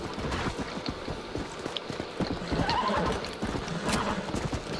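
A horse in Red Dead Redemption, its hooves clopping in a fast, uneven beat with a whinny mixed in, close and fairly loud, with no talk.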